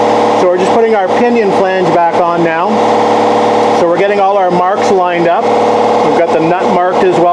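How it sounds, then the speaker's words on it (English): An air compressor charges steadily in a workshop during a Triumph TR250 differential job, a constant loud mechanical drone running underneath someone talking throughout. "we got the air compressor charging up, so sorry about the noise in the background"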